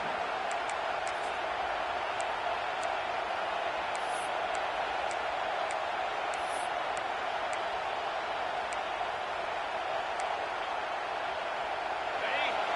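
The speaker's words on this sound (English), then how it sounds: "This crowd busting the decibel meter and trying to will a 4th down stop." A football stadium crowd roars in a loud, unbroken wall of noise before a fourth-down play, steady for the whole stretch.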